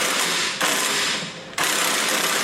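Ratchet tightening a bolt on a hidden hitch receiver on a 2017 BMW X5, giving loud, close, rapid clicking in two bursts with a short pause between them.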